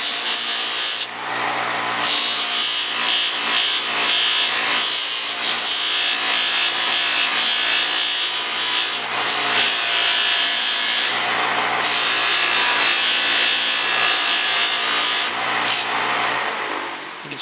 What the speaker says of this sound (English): a couple seconds buffing them up will take that right off and make them start to shine.